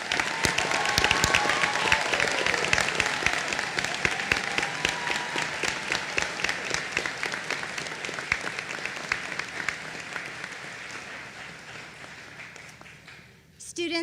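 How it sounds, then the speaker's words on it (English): An audience at a college commencement ceremony gives the graduates a long, dense round of applause that stays loud and steady, then thins and fades near the end. "Everyone, please join me one last time in applauding our graduates."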